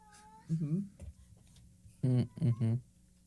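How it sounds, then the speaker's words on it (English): A cat gives a faint, tiny meow at a distance, nearly lost beneath several people talking close by during a tabletop game session. "I heard the tiniest little meow"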